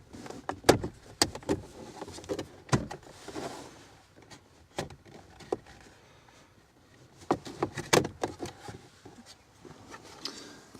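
Plastic clicks, snaps and knocks come while the gear knob and plastic dashboard fascia are pried off a Nissan 180SX interior. Sharp close taps arrive in scattered bursts with quiet pauses between them.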